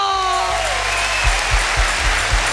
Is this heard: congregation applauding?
yes